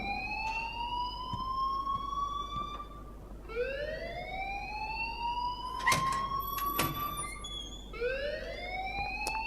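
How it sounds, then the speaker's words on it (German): A school fire alarm in the video game Life is Strange wails in rising, repeating siren sweeps, each climbing tone restarting every few seconds, steady and fairly faint with no talking. "please turn off that alarm since that's your job"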